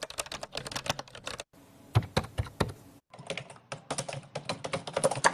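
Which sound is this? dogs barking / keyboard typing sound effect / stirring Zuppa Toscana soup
keyboard typing sound effect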